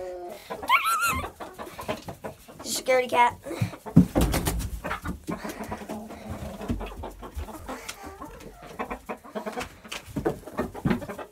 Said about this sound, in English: Yeah, you never knew I had chickens.